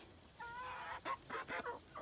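Chickens cluck softly in a muddy, rain-soaked pen strewn with fresh garden greens; a few short, quiet clucks and calls rise over a faint background.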